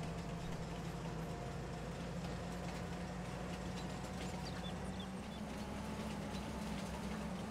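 A train in the Farming Simulator 22 video game rumbles along with a continuous low mechanical drone and steady tonal hum, loud and unbroken throughout.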